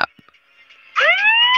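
Police car siren in the video game Go To Town, starting after about a second of near quiet and then sweeping upward into a loud, steady wail with bright harmonics.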